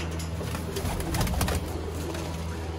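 Ferozpuri pigeons cooing, low repeated coos close by over a constant background hum, with brief flutter and rustle in the middle.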